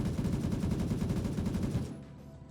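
Fully automatic AK rifle fire in the Gray Zone Warfare game: a fast, continuous burst of loud gunshots for about two seconds, then abruptly stopping into a fading tail.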